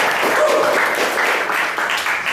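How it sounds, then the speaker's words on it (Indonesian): A church congregation applauds for Jesus during a worship service, with steady, dense clapping from many hands filling the room at an even level throughout. "Kalau mau tepuk tangan untuk Tuhan Yesus."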